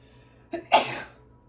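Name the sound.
sneeze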